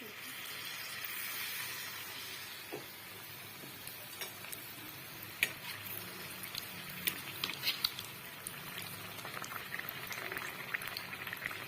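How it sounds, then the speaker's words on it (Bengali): Poa pitha frying in hot oil, a steady sizzling hiss with scattered crackles and pops throughout, close by, with no talk. "একটা একটা করে ভাজছি কীরকম ফুলে উঠেছে"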